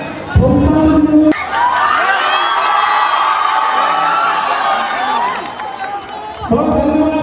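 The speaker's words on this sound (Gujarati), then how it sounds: "જોરદાર તાળીઓથી વધાવી લઈશું." At a live comedy show, a large audience cheers and shouts loudly with applause mixed in, a sustained roar of crowd noise over several seconds, with a voice calling out at the start and end.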